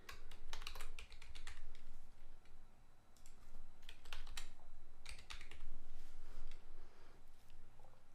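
Keystrokes on a computer keyboard as a product key is entered during Windows Server 2012 setup, coming in quick irregular bursts of close, crisp clicks separated by short pauses over low room hum.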